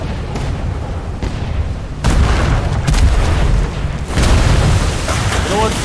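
Ship cannons firing and explosions in the naval game Atlas: heavy booming blasts at about two and four seconds over a constant rumble of sea and rain, with talk in the background.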